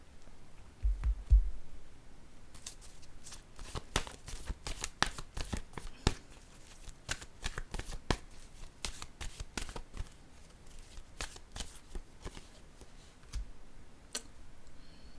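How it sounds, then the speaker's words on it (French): Tarot cards are shuffled, handled and laid down, giving crisp, close riffling and tapping clicks in an irregular run. A soft bump sounds at the start, and the clicking goes on with small pauses. "je vais déposer une autre carte ici."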